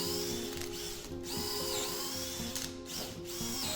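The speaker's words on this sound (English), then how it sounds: "my drill bits are a bit dull, so I have to get them sharpened. So you can see it's a little bit of a struggle with drilling them out." A drill with dull bits bores dowel holes into very hard maple for a side table, its motor whining steadily with strained pitch dips and brief catches as the bit labors through the wood.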